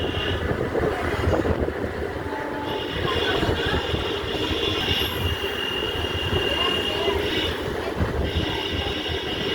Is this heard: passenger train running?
yes